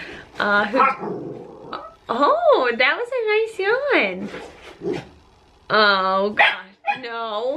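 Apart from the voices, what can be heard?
puppies barking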